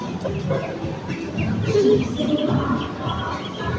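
Chickens cluck and call in a busy indoor mall petting farm, a steady mix of bird sounds with some faint background voices.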